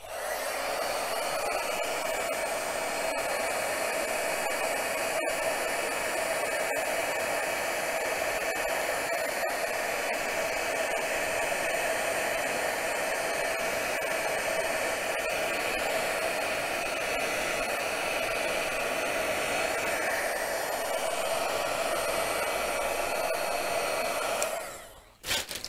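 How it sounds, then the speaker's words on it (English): A heat gun blowing hot air for crafting: a steady, loud, continuous whooshing whine held for about twenty-five seconds, close and alone, cutting off abruptly at the end. "Here we go, here's my heat gun."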